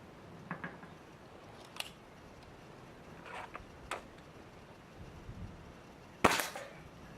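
An air rifle fires at a toy tank, giving several quiet, sharp snaps and pops spread irregularly across the stretch, with the loudest crack near the end against a low hush.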